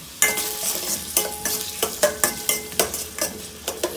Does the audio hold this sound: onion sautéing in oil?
yes